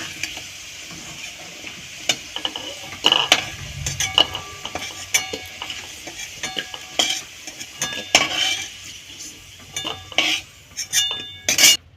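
Fried potatoes are lifted from a pan with a metal utensil, giving scattered clinks and scrapes against the pan over a faint sizzle of hot oil, irregular and close, with no talk.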